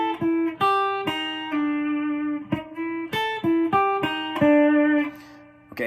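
A guitar plays a pedal-steel-style lick without any string bend: a clean, close run of plucked single notes and double-stops, each ringing out briefly before the next, in a relaxed, uneven rhythm.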